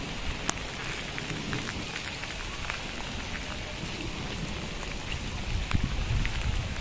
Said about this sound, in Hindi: ये फुल स्पीड में बारिश हो रही है।